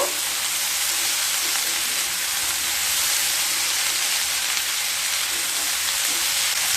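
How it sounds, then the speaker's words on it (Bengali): Cut green beans and potatoes fry in spiced masala in a pan, with a steady, loud broadband sizzle and hiss that holds throughout while they are stirred. "এবার দিয়ে দেবো কেটে রাখা বিনস বিনস দিয়ে আবারও খুব ভালোভাবে মিশিয়ে নেব"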